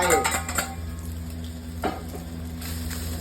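Cooked rice stir-fried with egg in a wok for Thai fried rice: a spatula scrapes and clatters against the pan over a soft sizzle, with a few sharp metallic knocks and no talk.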